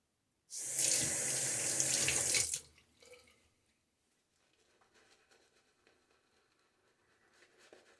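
A bathroom tap runs loudly for about two seconds during a wet shave, then shuts off, leaving faint handling sounds and quiet rustling.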